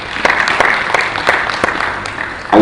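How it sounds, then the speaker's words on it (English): Audience applause at a National Diaspora Day session honouring a speaker, a dense sustained clapping from a large crowd lasting the whole moment with a few sharper claps standing out. "Let's give him a round of applause."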